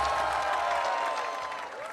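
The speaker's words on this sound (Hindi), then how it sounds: "एक बार फिर जोरदार तालियां बज जाए सब बच्चों के लिए" An audience at an Indian TV quiz show applauds the children, a steady wash of claps at moderate volume that fades slightly over two seconds.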